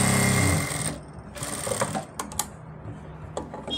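Sewing machine stitching a seam on ladies' pants, a loud fast motor-driven clatter in the first second, followed by quieter handling clicks and rustling of fabric.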